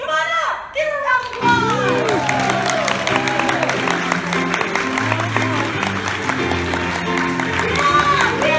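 A school gathering of teachers claps for a reluctant volunteer called up front, scattered clapping under music and overlapping talk, fairly close and moderately loud.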